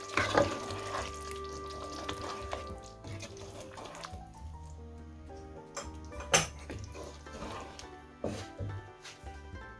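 Spices being mixed into a chicken malai boti gravy in a pot, with scraping and clinking of a spoon against metal and a faint sizzle, in irregular strokes at close range, no talking.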